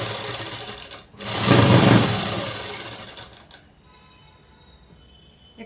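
Sewing machine stitching along a fold of cloth, a steady whirring run that swells louder in the middle, then stops, leaving a quiet room with faint small clicks.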